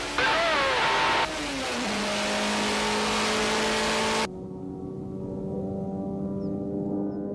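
A Feuling three-wheeled vehicle accelerates hard through its gears, the engine note climbing steadily, dropping at each shift and climbing again, loud and close before the sound thins out.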